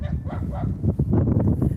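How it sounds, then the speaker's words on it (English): A dog barks and yips on a country walk through fields in Northumberland, a few short, fairly close barks in uneven bursts over open-air background noise. "Somebody with a dog."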